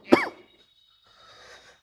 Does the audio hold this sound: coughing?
yes